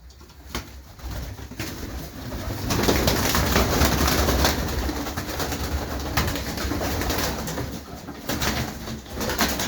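Pigeons coo repeatedly in soft, throaty rolls, close by, with several birds overlapping and faint rustling in the background.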